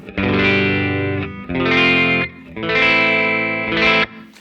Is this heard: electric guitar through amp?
yes